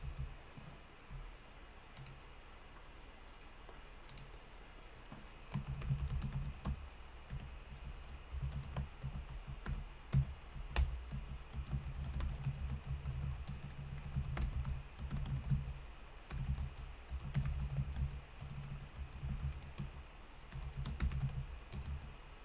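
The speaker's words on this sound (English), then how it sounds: "I just gotta type something." Computer keyboard typing during a live Bitcoin price-watch stream, with bursts of clicking keystrokes in irregular rhythm, close and fairly quiet, becoming busier and steadier after the first few seconds with no talking.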